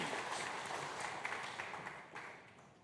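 A church congregation at a Sunday service claps after a baptism, the applause faint and distant, fading gradually over a few seconds.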